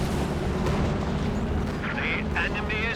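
Land Mattress rocket artillery fires in Company of Heroes 2, a dense rumbling barrage of launches and booms under a commentator's steady talk, with a whistling tone near the end.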